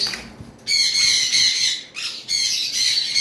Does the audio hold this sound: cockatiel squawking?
yes